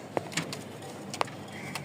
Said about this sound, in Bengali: একদম লাইট কালার কবুতরের কোয়ালিটিগুলো মাসাল্লাহ খুব ভালো